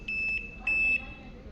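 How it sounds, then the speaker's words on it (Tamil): A Voltas Beko 6 kg top load washing machine emits short, high electronic beeps in a pair of repeated pulses, close and clear over a quiet room. "அதாவது பீப் சவுண்ட் வந்து கேட்க ஆரம்பிக்கும்."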